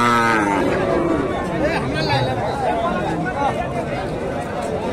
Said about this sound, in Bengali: আর এই হাটে উন্নত জাতের ফ্রিজিয়ান ষাঁড় গরুগুলো উঠে থাকে।